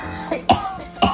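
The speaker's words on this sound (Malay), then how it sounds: "Batuk" Three short, sharp coughs come in quick succession at close range, one person coughing with brief gaps between bursts, with no talk around them.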